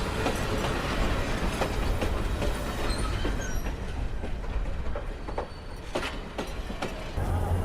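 The Tista Express pulls away from Gazipur Joydebpur station, its wheels clattering along the rails in a steady, noisy rumble with sharp clicks and a faint squeal, heard from inside the train.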